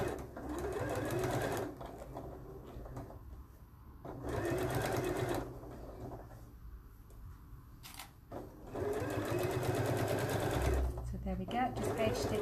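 A sewing machine top stitching a garment, its motor running in several steady bursts with brief pauses between, close and clear, with a voice talking over parts of it.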